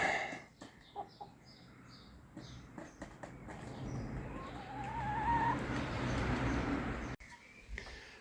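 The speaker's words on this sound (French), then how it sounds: "Allons voir les poules." Hens cluck and call now and then against a steady outdoor hum, with a few sharper squawks rising midway before a brief drop near the end.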